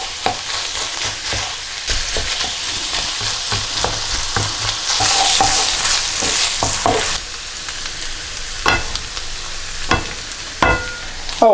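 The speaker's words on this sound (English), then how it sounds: "get our garlic in, get our onions in there, start to soften all this up in here, give it a mix round" Garlic and onions sizzle and fry steadily in a pan for chili con carne, with repeated scraping stirs and clinks of a utensil through the mix, loud and close throughout.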